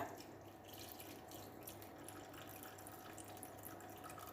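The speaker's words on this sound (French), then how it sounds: "Moi je vais mixer eau et vin blanc. Et je vais verser dans mon plat." Water and white wine poured into a baking dish, a quiet steady trickle of liquid lasting several seconds.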